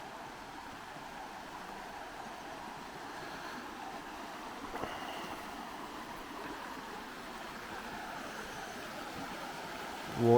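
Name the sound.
River Derwent water flowing quickly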